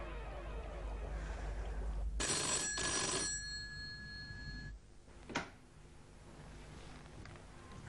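A telephone rings in a house, a bright electronic trill heard in a couple of bursts near the start, followed by quieter room noise and a single click as the receiver is picked up.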